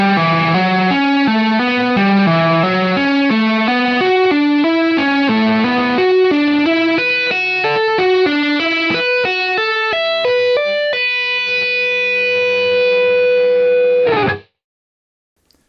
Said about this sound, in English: this lick does sound super cool when you add heaps and heaps of distortion on it